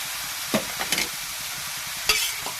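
Bitter gourd (kakrol) is stirred with spices and green chilli in a frying pan: a steady sizzle broken by a few scraping stirs of a spatula, close and fairly quiet, with no talk.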